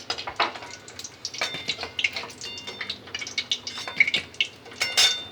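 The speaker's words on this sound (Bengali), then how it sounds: "নিয়ে এইভাবে আমি সবগুলো ভেজে নেব।" Chicken nuggets fry in hot oil, giving an uneven crackling sizzle broken by bursts of spattering and light clinks of a utensil against the pan.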